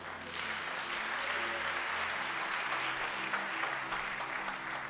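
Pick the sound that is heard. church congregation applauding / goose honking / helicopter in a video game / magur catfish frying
church congregation applauding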